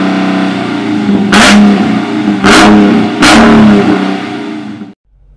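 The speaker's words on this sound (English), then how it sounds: "here's what this wonderful engine, this glorious engine, sounds like" Three sharp revs from a 2016 Dodge Charger SRT 392 V8, each a loud, brief blip rising above a lumpy idle, then the engine cuts off abruptly near the end.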